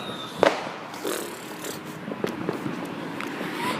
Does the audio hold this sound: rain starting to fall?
no